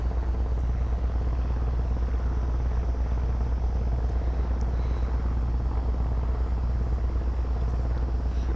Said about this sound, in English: flying in a helicopter, not driving